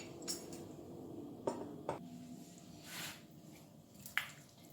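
Chicken marinade with red chili powder being mixed in a metal bowl, giving soft wet squelches and a few sharp clinks of a spoon against the dish, quiet and close with no talking.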